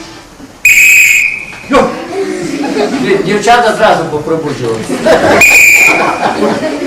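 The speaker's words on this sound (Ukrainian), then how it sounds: "в залежності, як свистить свисток, той і біжить" Two short, shrill whistle blasts are blown at a Plast scout camp to wake the campers. They come a few seconds apart and are loud and close, with people chatting and laughing in between.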